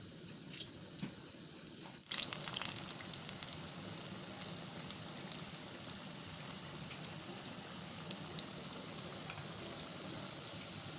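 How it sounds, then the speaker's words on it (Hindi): Pakoras frying in hot oil, a steady fine sizzle and crackle that swells abruptly when the batter goes in, then holds as a continuous bubbling hiss close by. "इसको अभी पकाएंगे"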